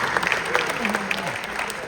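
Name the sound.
audience applause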